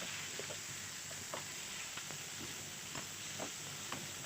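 Turkey frying in a pan, a steady faint hiss of sizzling oil with small scattered pops and crackles throughout, with no talking.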